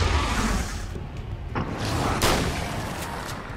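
Shotgun fire in the video game American Nightmare 5, a few heavy blasts and bursts amid a busy wash of game noise and background music, with no talking over it.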